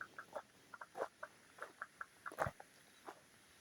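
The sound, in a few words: frogs calling at a pond in the Australian bush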